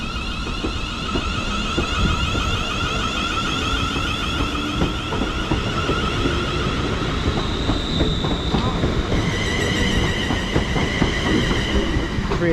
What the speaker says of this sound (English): going out now is going to be the 1525 ScotRail service to Glasgow Central